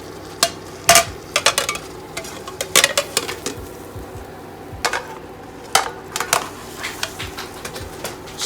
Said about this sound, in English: Now I'm gonna go ahead and flip this.